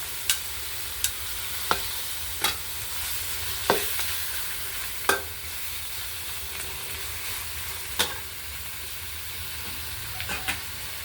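Catfish stir-fries in a wok with red curry paste and garlic for a spicy Thai dish with Thai eggplant. A loud, continuous sizzle runs throughout, punctuated every second or two by crisp spatula scrapes.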